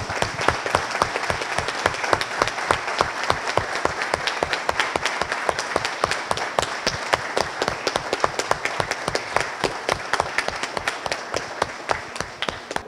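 An audience applauds at length for a judge retiring after 27 years on the bench. The clapping is steady and dense, with many hands and no voices.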